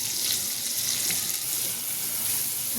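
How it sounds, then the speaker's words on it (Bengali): Chopped garlic frying in butter in a pan gives a loud, steady close-up sizzle, a continuous hiss without breaks and with no talking. "বাটার আর রসুন একটু লালচে ভাজা হবে হালকা"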